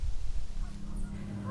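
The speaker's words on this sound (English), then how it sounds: "You probably heard the geese just now out on the estuary" Geese honk faintly out on the Great Bay estuary, a few scattered calls over a steady low rumble of wind or distant background noise.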